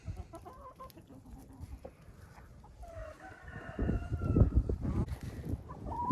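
Chickens in a snowy winter enclosure cluck and murmur, with one rising crow-like call, near and fairly loud, over scuffling and rustling that grows busier toward the end.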